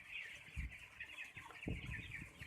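Chickens cluck in a poultry coop, crowding together in the cool air, with a few short clucks rising over a steady background hum.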